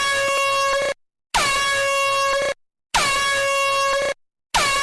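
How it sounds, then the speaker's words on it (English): Loud air horn blasts repeating in a steady pattern, each held for about a second and a half with short silent gaps between them. "let's go ahead and tie some air horns to it"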